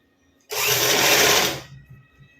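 A sewing machine stitches blouse fabric in one loud, steady burst of about a second, then winds down and stops, leaving quiet handling noises.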